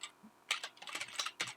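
A computer keyboard being typed on, a short burst of about eight crisp, close key clicks arriving in an uneven rhythm over quiet background.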